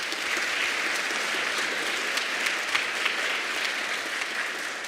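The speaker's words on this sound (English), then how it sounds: "Let's give them a round of applause." Sustained applause from an audience at an elementary school grandparents and special friends day, a steady dense wash of clapping that holds evenly for several seconds.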